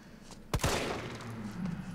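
A single sharp gunshot in Resident Evil 3 cracks out loudly, followed by a short ringing tail and low rumbling game ambience.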